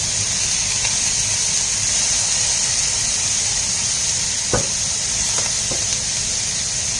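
Thin soy sauce poured into a wok of sweet and sour shrimp, a steady loud sizzle and steam hiss running throughout with a few brief splashy accents from the liquid hitting the hot pan.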